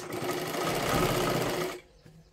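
A sewing machine runs steadily through a stitching pass on a katori blouse, loud and close, then stops abruptly with a faint click or two afterward.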